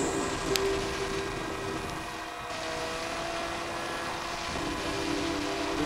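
A NitroPlanes MQ-9 Reaper RC model drone plane flies overhead with a steady droning motor hum and buzzing whine, continuous and moderately distant, with the pitch shifting slightly as it passes.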